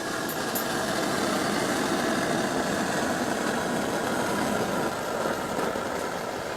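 Camping gas stove burner opened to full to burn off leftover gas, a steady loud roaring hiss of flame held close without a break, no talking.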